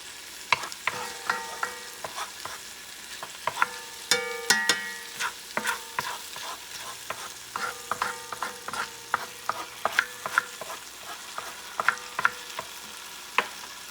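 A spoon stirs a sizzling chickpea and summer sausage stew seasoned with turmeric and smoked paprika in a pan, with close scrapes and clinks over a steady fry and no voices.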